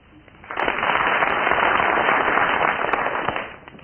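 Studio audience applause on a radio panel show, a dense, steady burst of clapping swelling in quickly, holding for about three seconds, then fading.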